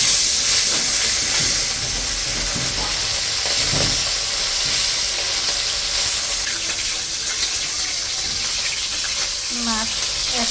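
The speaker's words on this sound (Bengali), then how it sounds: "তো তেল গরম হয়ে গেছে, মা মাছগুলো ভেজে নেব।" Tilapia pieces sizzle and hiss steadily in hot oil in a home kitchen, a loud continuous frying crackle with occasional stirring clinks.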